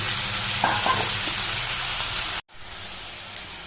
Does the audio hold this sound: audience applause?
no